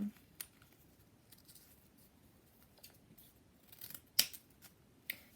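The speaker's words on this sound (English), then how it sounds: "my pieces are way too big, so I need to cut these too" Scissors snip through pieces of craft paper for an Easter egg craft, a few sharp, close cuts spaced irregularly, with the loudest snips near the end amid quiet surroundings.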